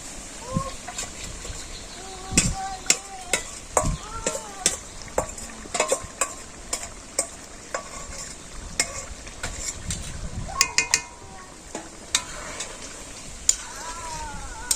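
Chicken curry with garam masala and ground cumin being stirred as it fries in a pan in a village kitchen, with repeated scraping knocks of the spoon over a soft sizzle and some faint birds in the background.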